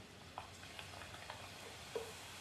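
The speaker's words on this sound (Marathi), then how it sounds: "शंकरपाळ्या आपल्याला टाकायच्यात त्याच्यात आणि तळून घ्यायच्यात" Spicy shankarpali frying in hot oil over a lowered flame, a soft, steady sizzle with a couple of faint clinks and bubbling pops.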